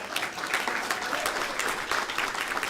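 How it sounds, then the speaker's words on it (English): An audience at a research network panel event applauds Andrew, a dense, brisk wash of clapping that stays even and fairly close throughout, with no voices over it. "put your hands together and give Andrew a round of applause"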